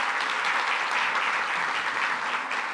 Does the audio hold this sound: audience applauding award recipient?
yes